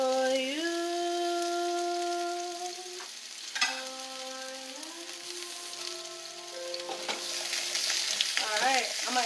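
Red onion frying in a pan, a steady sizzle sitting under held musical tones, with a few stirring scrapes and clinks close by.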